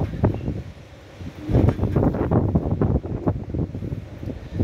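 Strong typhoon wind roars and buffets the microphone in loud, uneven gusts outdoors, with rustling over a continuous rumbling low end and no voices.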